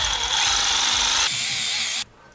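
A power drill grinds loudly at a nut for about two seconds, a dense high whine with a pitch shift partway through before it abruptly stops, in a workshop setting.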